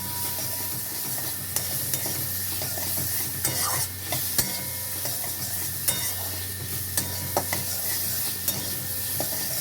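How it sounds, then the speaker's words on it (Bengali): Spices and food stirred and fried in a pan for a Bengali home dish, with a steady close sizzle and repeated sharp scrapes and clinks of the spoon against the pan, no talking. "একটু ভালো করে কষিয়ে নিয়ে তারপর এর মধ্যে দিয়ে দেবো জল।"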